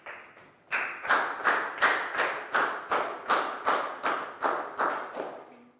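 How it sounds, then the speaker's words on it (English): A classroom of children gives a round of applause for a student, with a brief murmur followed by about a dozen loud, rhythmic unison claps, each beat sharp and evenly spaced before stopping. "a big round of applause for Lakgao"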